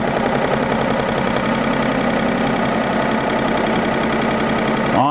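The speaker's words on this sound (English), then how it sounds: "just pressing and holding the start button, the machine will sew very slowly around" An embroidery sewing machine stitching a slow run stitch onto poster board with no thread loaded, making a steady, dense mechanical whir with rapid repetitive ticking, loud and continuous throughout.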